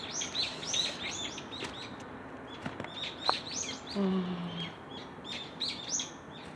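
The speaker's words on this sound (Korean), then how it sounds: "여기 새소리도 들리고" Birds chirp and trill repeatedly in the background of a wooded hillside, quick bright calls scattered throughout, fairly faint with some low rustling and a brief soft sound.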